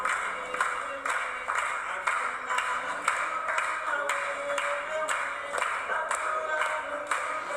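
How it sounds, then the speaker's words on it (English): Translators at a linguistic workshop clap in steady rhythm during a group performance, sharp hand claps repeating about twice a second over a bright, busy backdrop of voices and movement. "Lots of clapping."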